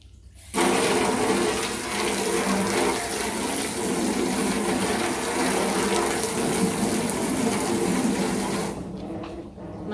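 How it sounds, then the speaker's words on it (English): A hose sprays water over a rabbit cage, making a loud, continuous rushing hiss up close that starts abruptly and runs steadily for several seconds before stopping. "Hose that off, and then I'm going to just give it a quick scrub with soap and water."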